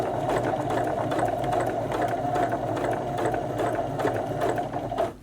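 Sewing machine running a straight stitch along a hoodie zipper, a steady continuous whir of rapid needle strokes with brief speed changes near the end, close and alone.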